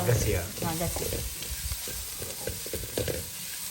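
Onion and coconut pieces fry in a pan with a steady broadband sizzle, punctuated by repeated scraping stirs of a spatula, close and moderately loud with no talking.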